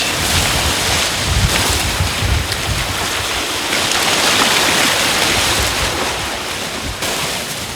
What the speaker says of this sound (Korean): 파도가 심하게 쳐 보는 것만도 아슬아슬한데